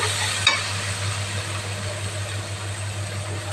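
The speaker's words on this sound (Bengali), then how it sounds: "আমি এখন জলটা দিয়ে দিচ্ছি" Hot water goes into frying masala in a pan for egg omelette curry, making a steady close hiss and sizzle over a low constant hum, with a sharp crackle near the start and another at the end.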